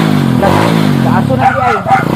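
A motorcycle engine running after starting and warming up, a steady loud idle with rough mechanical thrum that carries on throughout, while people talk close by over it.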